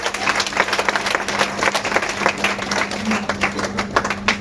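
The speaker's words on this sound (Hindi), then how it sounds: "सर के लिए भी तालियां बजा दो यार एक बार।" Loud, busy clapping from an indoor audience at a product demo seminar, with a steady low hum running underneath.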